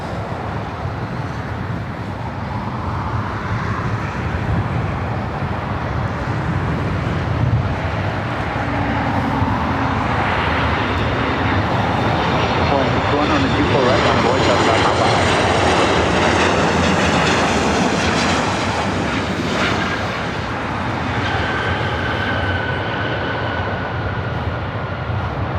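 Jet aircraft roar at LAX airport ahead of takeoffs, a loud sustained rumble with a rising whine that swells through the middle and lingers steadily to the end.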